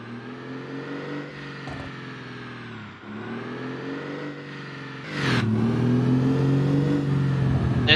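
Big-cam Cummins 3 475 diesel truck engine revving in a truck driving video game, a steady low drone that rises in pitch, dips, then surges louder into a sustained high-rev roar.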